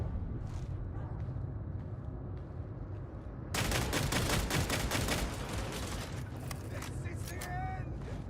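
Pistol gunfire in Warhammer 40,000: Darktide, a dense rapid burst of sharp shots beginning partway through and continuing to the end, loud over steady game noise with a voice talking underneath.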